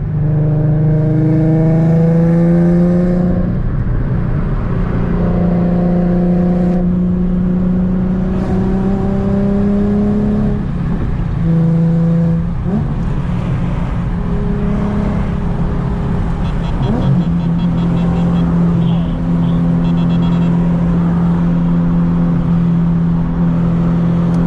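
A Maserati Ghibli and a Nissan 370z Nismo accelerate hard on a highway, engines revving loudly through repeated rising pitch sweeps with brief drops between gear shifts, close and sustained throughout.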